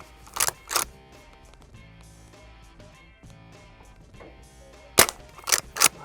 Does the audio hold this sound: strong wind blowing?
no